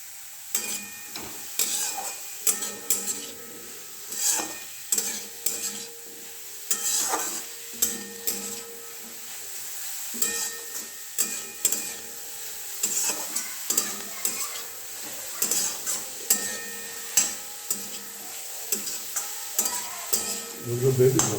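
Chopped carrots and sweet corn fry for chicken soup while a utensil stirs them in repeated scraping strokes over a steady background sizzle.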